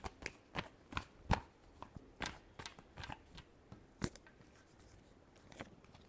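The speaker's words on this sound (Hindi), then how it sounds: "Last shuffle." Tarot cards being shuffled by hand in a final shuffle, a quiet run of soft papery riffles and taps with irregular bursts, close and alone with no talk.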